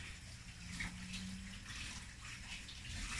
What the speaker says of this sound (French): Ajouter mon eau.